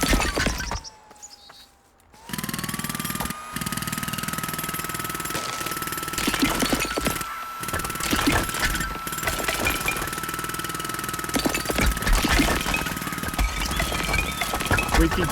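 Steady demolition chipping on a building in the game Demolish & Build 3, a dense ongoing clatter of impacts and debris with a sustained tonal hum, continuing nearly throughout after a brief quieter gap near the start.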